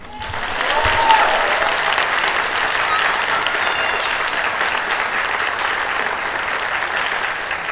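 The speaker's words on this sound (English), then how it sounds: "take opportunities to give them a round of applause and say thank you for their support" Audience applause at a nursing pinning ceremony, a loud, sustained wash of many hands clapping that holds steady for several seconds, with faint voices mixed in.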